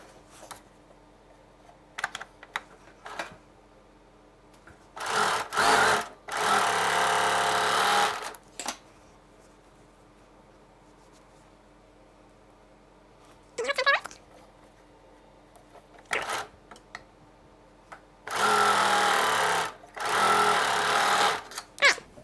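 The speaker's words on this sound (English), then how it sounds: "So now we're ready to sew up both of these side seams." Sewing machine stitching the side seams of vintage-style panties, heard in several loud bursts of rapid motor whirring separated by quiet gaps with a few clicks and light handling noises.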